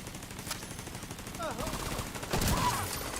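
Automatic gunfire in The Division shooter game rattles in steady bursts at moderate level, with some tonal game effects mixed in and a louder stretch near the end.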